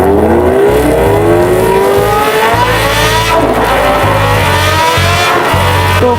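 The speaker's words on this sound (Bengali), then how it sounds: "ফাঁকা রাস্তা পেয়ে সবাই একটু মনের মতো বাইক রাইড করে নিলাম।" Motorbikes speeding along an empty rural road, engines droning loudly with repeated rising and falling revs as gears change, close and continuous, no talk.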